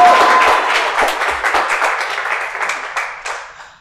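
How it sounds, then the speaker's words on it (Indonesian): A crowd applauds for a contestant at a comedic mock presidential debate show, starting full and dense, then thinning into scattered individual claps as it fades out. "tepuk tangan buat Aan"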